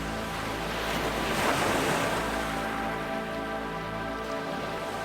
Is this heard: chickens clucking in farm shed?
no